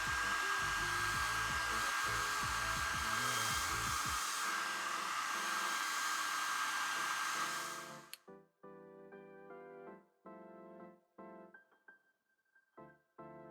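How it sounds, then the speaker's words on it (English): A hair dryer blows hair dry after curling, a loud, steady broadband roar for about eight seconds before it cuts off, leaving quieter intermittent handling and brushing sounds. "Okay, so I finish curling and blow dry my hair."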